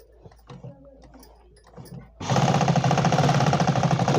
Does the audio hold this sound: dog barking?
no